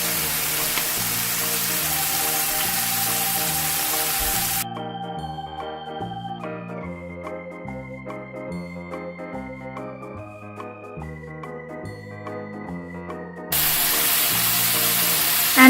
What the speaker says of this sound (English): And I'll fry this till it gets golden brown color